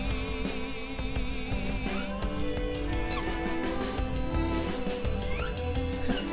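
A trapped bird squawks and warbles repeatedly in the musical adventure game Wandersong, its wavering cries layered over continuous busy game music.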